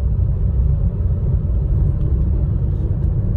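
A 2021 Renault Duster Turbo cruises along a road, heard from inside as a steady, loud low rumble of engine and tyre noise that holds even and unbroken throughout, with no one speaking.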